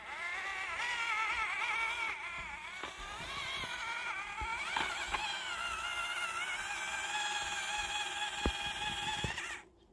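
An HPI Venture 18 RC truck's small electric motor whines steadily with shifting pitch as it drives, a thin buzzing tone punctuated by a few clicks and bumps before cutting out at the end.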